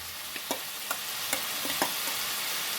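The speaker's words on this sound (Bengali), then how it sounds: "তো এখন আমি এই ভেজে রাখা ডিমের অমলেটগুলো দিয়ে দেব।" Fried egg omelettes going into spiced masala in a pan, with a low steady sizzle and several soft clinks and scrapes of a spatula spaced through the moment, no talk.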